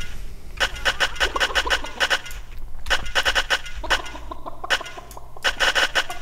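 Chickens on a hen farm in the video game Dungeon Keeper cluck in repeated rhythmic bursts, steady and moderately loud, over a low background drone.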